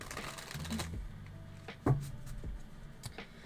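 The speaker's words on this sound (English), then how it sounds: "let me do a few shuffles here" Tarot cards are shuffled close by in a quiet room: a quick riffling flutter, then scattered soft taps and slides of the deck.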